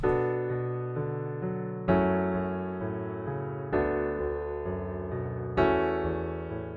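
A low piano plays sustained chords, with new bass notes struck every couple of seconds beneath a slow, ringing melody.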